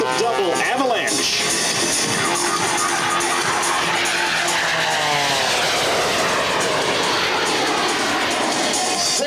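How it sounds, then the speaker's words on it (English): An aerobatic plane at the 2004 Quad City Airshow roars past loudly, its engine pitch sweeping down as it passes, with a crowd and a commentator's voice underneath. "There's something unnatural about the sound of a jet engine."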